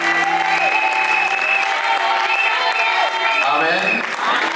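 A congregation applauds and cheers at a religious wedding ceremony. The clapping is dense and steady throughout, with sustained tonal voices or music ringing above it.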